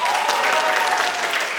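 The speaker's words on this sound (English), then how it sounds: "Just clap your hands if the statement is true for you." Audience at a TEDx talk clapping hands in response to a prompt: a brief, full burst of crowd applause, even and steady throughout.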